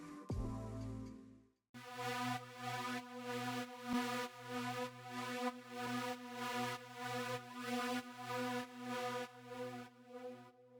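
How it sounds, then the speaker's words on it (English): A sustained Alchemy synth pad preset called Titanic Waves, layered into a cover of the Big Brother Naija theme, plays with steady pulsing swells and rich harmonic layers, loud and alone after a brief opening note. "The last instrument I added from the original song is this Titanic Waves from Alchemy."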